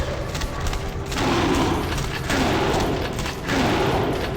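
Enemies blowing up in Vampire the Masquerade Bloodlines, a dense run of booming, thudding blasts in quick succession amid gunfire, loud and close with brief lulls between bursts.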